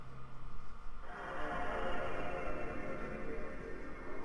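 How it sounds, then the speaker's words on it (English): A PlayStation 2 red screen of death error sound: a low, droning, unsettling tone that swells into a brighter sustained wail after a second, held steady and fairly faint, with no talk. "the red screen of death comes with an unnerving sound"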